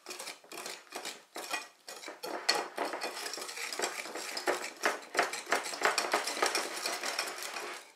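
Sifted flour is folded into brownie cupcake batter in a bowl with a utensil, giving a steady run of soft scraping strokes and light clinks close by, with no voices.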